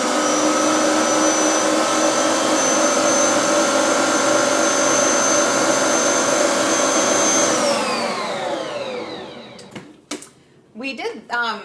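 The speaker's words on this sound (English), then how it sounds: "we're going to just turn it on and mix this for about 15 seconds" A Bosch stand mixer churns bread dough with a loud, steady motor whine for about eight seconds, then winds down and stops, followed by a few clicks and someone talking.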